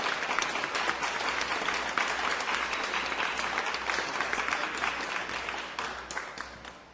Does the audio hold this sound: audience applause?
yes